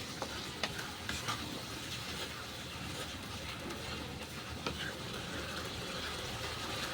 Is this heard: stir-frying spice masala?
yes